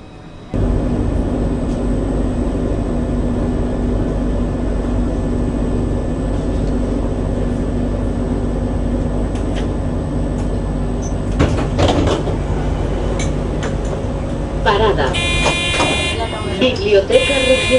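Interior of a tram while boarding, with a steady low rumble of the vehicle, door and mechanism clatter around twelve seconds, and a multi-tone chime or signal near the end; voices talk over it.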